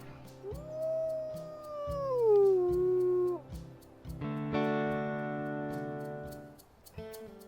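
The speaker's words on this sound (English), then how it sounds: "Let's go ahead and howl." A wolf howl in the WolfQuest video game, rising and then sliding down in a long call. A second harmonic-rich howl follows, set against steady game music with regular beats.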